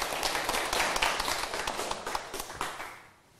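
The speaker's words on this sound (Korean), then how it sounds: "박수를 안 치세요." An audience at a lecture claps briefly, with a short burst of scattered, moderately loud hand claps that thins out and dies away within a few seconds.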